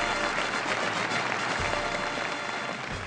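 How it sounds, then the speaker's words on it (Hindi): Applause from a studio audience at a comedy show, a dense, steady wash of clapping heard alone at moderate loudness throughout. "जोरदार तालियां।"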